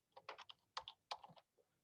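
Keys on a computer keyboard tapped in short, quiet bursts, a few quick keystrokes grouped together with brief pauses between them, close by in a quiet room.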